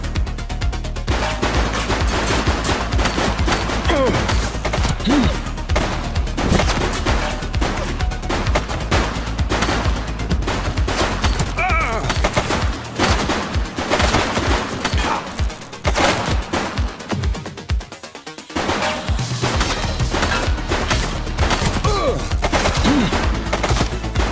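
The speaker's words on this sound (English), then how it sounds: "She's shooting!" Sustained gunfire fills a shootout in the video game The Precinct, rapid bursts and single shots cracking loudly and almost continuously, with a brief lull before the firing resumes.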